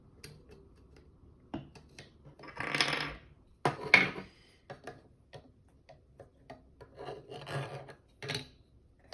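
An angled foregrip, 3D printed and a tight fit, slid onto the rail of a Foxtrot Mike FM-9 build, gives several close scraping, rasping slides with small ticks and clicks between them, fairly quiet, no talking.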